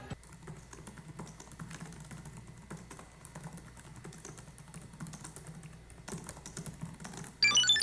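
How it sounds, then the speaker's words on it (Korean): Typing on the full-size keyboard with number pad of a Lenovo Yoga Pro 9i laptop: steady, close, moderately firm key clicks in a continuous run, fairly quiet, with a brief louder burst at the end. "이렇게 넘버패드가 있는 풀사이즈 키보드이며 키를 타이핑할 시에는 가벼운 느낌은 좀 없었고 적당히 반발력이 있어서"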